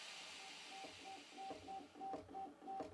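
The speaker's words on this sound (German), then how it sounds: "Nach dem ersten Einschalten führt der Drucker verschiedene Tests durch, um das korrekte Funktionieren aller Komponenten zu überprüfen und das Gerät zu kalibrieren" A Prusa MK4 3D printer runs its self-tests and calibration, its stepper motors whirring in short, repeated tonal bursts with soft mechanical clicks. The sound is quiet and close, with no voices.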